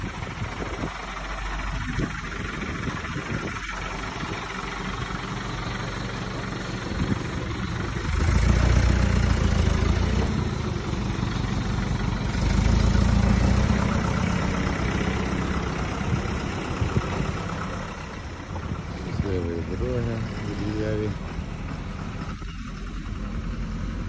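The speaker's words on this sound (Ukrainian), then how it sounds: "відправляємо ще один комбайн" A 1981 John Deere 1177 combine harvester engine runs steadily outdoors, a loud continuous diesel rumble that swells twice, with no voices over it.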